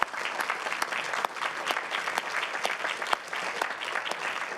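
Applause from the room at a special council meeting, a brisk even clatter of many hands clapping together that carries on steadily with no break.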